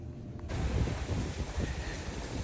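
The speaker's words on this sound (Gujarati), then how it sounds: "આજ તો પવન જોરદાર પવન છે" Strong wind buffets the microphone outdoors, a steady low roar with gusting rumble that swells after the first half second and holds loud to the end.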